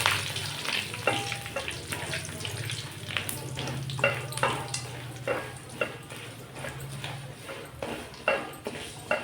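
Curry leaves crackle and sizzle in hot oil in a pan, with a steady frying hiss broken by sharp popping spits and a low background hum.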